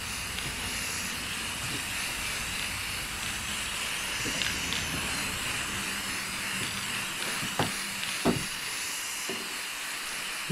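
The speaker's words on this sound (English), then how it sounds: "Do a little gloss enamel clear coat kind of action here" Gloss enamel clear coat sprays onto a 2004 Craftsman LT1000 lawn tractor as a continuous soft hiss, broken by a few faint clicks and knocks near the end.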